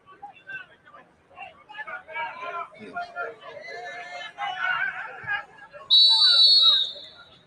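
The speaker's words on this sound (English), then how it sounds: "That sounds like the final whistle." A referee's whistle shrills out loud and sustained near the end at a school football match, after crowd chatter and a commentator's voice run underneath.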